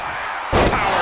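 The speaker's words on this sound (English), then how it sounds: "Power slam." A single heavy thud of a wrestling power slam in the WWE 2K26 video game, landing halfway through after a steady crowd roar and followed by a booming, ringing impact.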